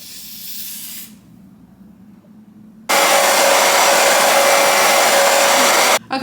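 A hair dryer blows on a lace frontal wig, a loud steady roaring hiss that cuts in abruptly after a quieter stretch and shuts off near the end.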